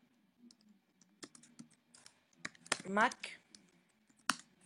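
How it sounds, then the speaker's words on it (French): Keys clatter in quick bursts as a search term is typed on a computer keyboard, crisp close clicks with brief pauses, while someone speaks over part of it. "Peut-être que si on tape Photoshop CS6"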